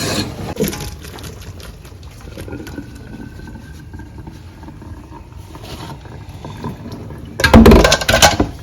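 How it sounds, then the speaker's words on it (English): Water from boiled vegetables for a plantain and vegetable sauce pours out through a strainer in a sudden loud, splashing rush near the end, after a stretch of faint kitchen clatter and low background noise. "Our veggies are ready, so you go ahead and strain the water out."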